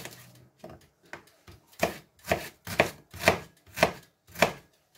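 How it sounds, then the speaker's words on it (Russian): Steady knife chopping shallots on a board, about a dozen crisp strikes that grow louder and more regular, close up with no talking. "Следующим шагом я режу лук-шалот."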